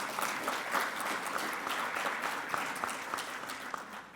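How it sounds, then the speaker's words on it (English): An audience at a cardiology conference session applauds the moderators, with dense, continuous clapping from many hands, steady and moderately loud throughout. "I invite you to please applaud these moderators coming from far to be here"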